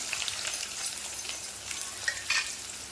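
Chopped onions drop into hot oil with curry leaves and chillies in a pan, giving a steady close sizzle with faint crackles and spatters, without talk.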